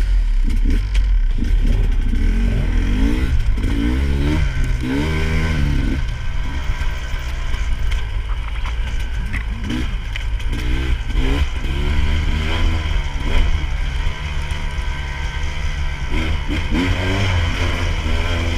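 A Husqvarna dirt bike engine runs loudly and continuously on a trail, revving up and down repeatedly with rising and falling pitch throughout, up close with wind and clatter.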